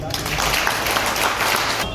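Loud applause from a gathering at a labour union welcome event in Jammu and Kashmir, a dense continuous wash of clapping lasting about two seconds, with voices mixed in.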